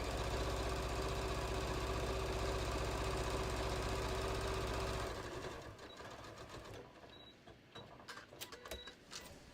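A sewing machine runs steadily while stitching down the side of a beach tote, a loud continuous motor whir for about five seconds, then stops, leaving quieter handling clicks and rustles.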